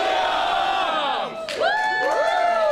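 A packed auditorium crowd at a police fundraiser cheers and whoops loudly, with sweeping rising and falling shouts layered over a continuous roar of voices.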